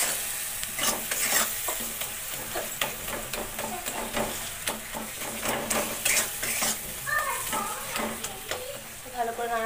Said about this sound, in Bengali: দেওয়ার পরে এটাকে ভালো করে নেড়ে নিল।